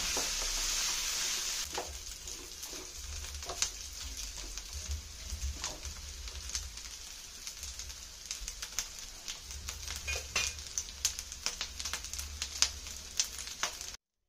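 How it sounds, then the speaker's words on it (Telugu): Coconut pieces fry in oil in a pan, with a steady close sizzle broken by irregular crackles and pops, and an occasional scrape of stirring. "సాస్ ఎర్రగా వచ్చే వరకు కొబ్బరి ముక్కలు మగ్గం వేయాలి."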